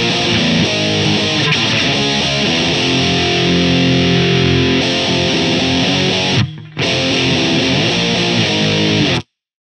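Electric guitar driven through a Boss DS-1 distortion pedal with distortion maxed and tone rolled down, modeled on a Fractal unit, plays loud, sustained saturated chords and riffs for about nine seconds, with one brief dropout near the end.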